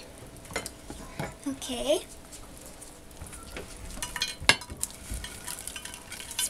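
Skittles popcorn is stirred and scraped in a pot, giving close, irregular scrapes and rattling taps against the metal with a faint sizzle underneath; a voice speaks briefly.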